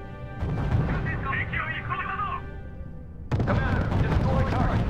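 Artillery fire pounds units in the R.U.S.E. strategy game, a dense rumbling barrage that surges louder midway, with a voice speaking over the shelling.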